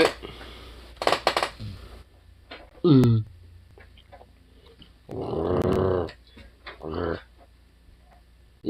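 A dog growls in short low bursts, one brief and then a longer rumbling one, between people talking nearby indoors.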